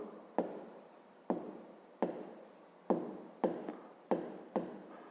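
A pen or chalk writes out a math problem in short, crisp strokes, about eight separate bursts of scratching separated by brief pauses, quiet and close.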